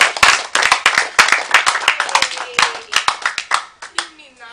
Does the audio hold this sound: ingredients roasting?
no